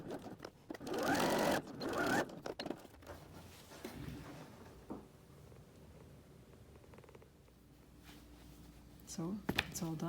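A sewing machine stitches a seam on a fabric wallet in quick whirring bursts during the first few seconds, then quieter mechanical handling noises follow, with a voice briefly heard near the end.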